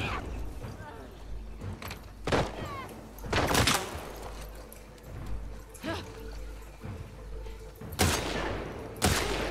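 Gunfire in the video game The Last of Us Part II, several sharp shots at irregular intervals, some in quick bursts, loud and close, among game ambience with occasional speech.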